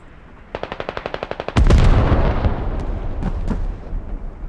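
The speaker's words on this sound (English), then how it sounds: "Artillery, Pavlov." A rapid burst of evenly spaced machine-gun shots leads into a heavy, booming artillery blast with a long rumbling tail, then a couple of distant single shots, all loud and close in a competitive squad video game match.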